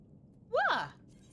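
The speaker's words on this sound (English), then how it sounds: "I don't know if you guys can hear him meowing." A cat's single short meow, rising then falling, faint behind a quiet room background.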